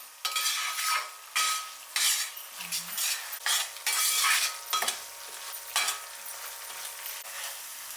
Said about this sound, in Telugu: సో కొంచెం లేట్ అయినా మీరు ఈ మసాలాని చక్కగా ఆయిల్లో ఫ్రై చేయడానికి ట్రై చేయండి